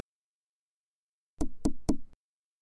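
Three firm knocks on a door in quick, even succession, close and clear against total silence.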